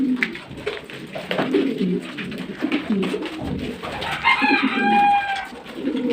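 Pigeons coo repeatedly at close range, a low rolling murmur running through the whole stretch, with a clearer tonal call rising toward the end; a timid male holds back from coming down beside a female.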